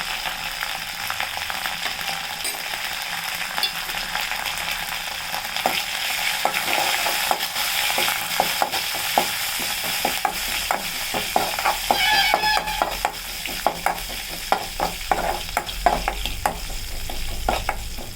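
Curry leaves, garlic and asafoetida fry in hot oil for a tempering, a steady dense sizzle with scattered crackles and pops that grow busier toward the end, heard alone without talk.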